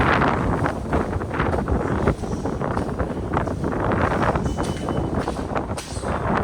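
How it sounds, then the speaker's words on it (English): Strong, gusty wind buffets the microphone continuously at Whitehall Street-South Ferry in New York, a loud, rough roar that rises and falls throughout, with no talk. "Fucking windy."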